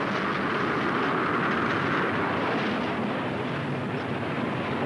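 A freight train runs along its rails through farmland, a loud, steady rumble and roar that continues throughout with faint rhythmic clatter and no voices.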